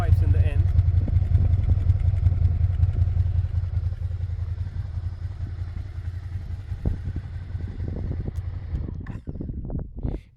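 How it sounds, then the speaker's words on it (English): Suzuki Gladius motorcycle with twin exhaust pipes, a low, steady engine rumble that gradually fades, with clattering noises and a voice near the end. "So that's mostly the general sound of this bike."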